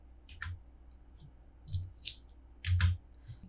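Soft, dry mouse clicks in AutoCAD, a few single and paired taps spread over a few seconds, close and faint in a quiet room.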